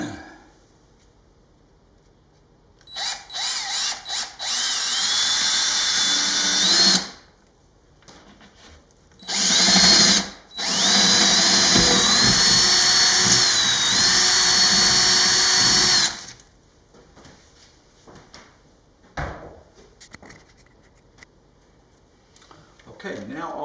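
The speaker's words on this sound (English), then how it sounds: "So we're going to drill this hole." A power drill whirs loudly in two long bursts separated by a brief pause, with quieter handling noises and clicks before and after.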